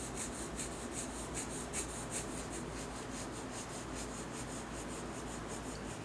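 A graphite pencil rubs steadily across paper, shading a basic still-life drawing in close, continuous scratchy strokes with a faint repeating rhythm.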